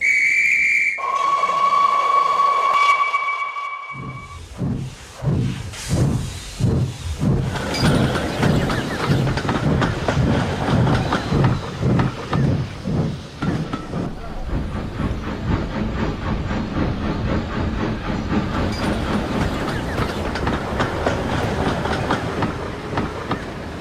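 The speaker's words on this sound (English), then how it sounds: "the guard blew his whistle, and Gordon steamed away" A guard's whistle sounds, then a steam engine chuffs away from a station hauling passenger coaches, its exhaust beats speeding up over wheel clatter on the rails, loud and close throughout.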